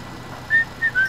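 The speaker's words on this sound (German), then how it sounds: "Oh, nicht pfeifen, das ist zu laut." Person whistling three short high notes in quick succession, clear and fairly loud over a quiet background hum.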